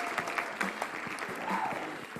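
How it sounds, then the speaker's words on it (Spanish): Classroom-style applause greeting guests back from a French painting exhibition, a brief spatter of hand claps at moderate level with faint tonal background sounds, no voices. "Recibámoslos con un fuerte aplauso."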